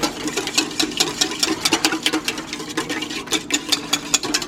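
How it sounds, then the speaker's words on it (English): A whisk beats eggs, milk and sugar, with a cinnamon stick in the bowl, fast and steady. Dense rapid clicking and scraping runs without a break, close and fairly loud, and nobody speaks. "we're just sort of rapidly whisking this"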